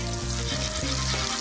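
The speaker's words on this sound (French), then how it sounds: "Vous entendez ce grésillement?" Tuna patties fry in peanut oil in a frying pan with a dense, loud crackling sizzle that runs continuously and close up, with no voices.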